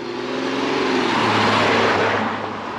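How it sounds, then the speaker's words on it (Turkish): A car towing a trailer passes along a German street, a broadband engine and tire rush that swells and fades over a few seconds, with no talking. "Bak yine vagonlu bir araba geliyor gidiyor bak."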